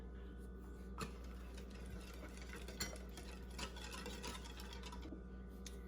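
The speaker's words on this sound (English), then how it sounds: "gonna whisk that all in together here" Cinnamon being whisked into a cinnamon roll mixture in a bowl, faint quick scraping and light clicks of the whisk against the bowl, quiet and close, no talking.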